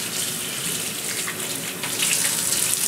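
Running tap water streams steadily into a sink while something is rinsed during home sourdough bread baking, a constant close hiss that grows slightly louder and fuller toward the end.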